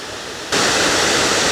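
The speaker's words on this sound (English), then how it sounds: "So that's a really nice waterfall with a lot of water flowing here in the summer." Minnesota's Gooseberry Upper Falls on Lake Superior's western shore in summer, a loud broad roar of heavy flowing water that steps up suddenly and then holds steady and close, with no talk.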